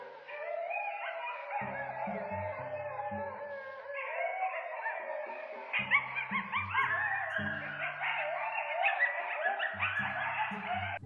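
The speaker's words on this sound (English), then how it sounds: "But the coyotes are the worst. Whenever they communicate with each other, it sounds like a fight to the death." A chorus of distant coyotes howls and yips in overlapping, wavering calls, rising and falling in pitch with no other sounds present.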